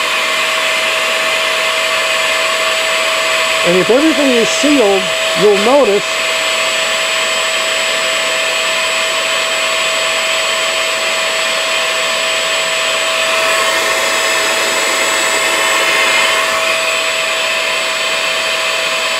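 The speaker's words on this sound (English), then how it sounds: "Turn on our vacuum." A vacuum pump drawing mash into a still runs with a loud, steady whine and broad hiss throughout, with a brief spoken phrase near the start over the constant drone.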